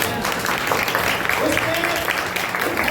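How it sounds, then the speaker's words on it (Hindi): A church congregation at a Sunday service bursts into loud applause, a dense, continuous roar of many hands clapping with crowd noise, filling the room from start to finish. "जोरदार ताली"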